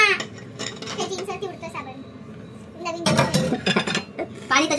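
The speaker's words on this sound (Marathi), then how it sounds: "एकदम बेस्ट घासतो यार मी भांडी." Pots, pans and cutlery clatter and clink in irregular bursts as dishes are scrubbed by hand at home, loud and close, with voices talking between the clashes.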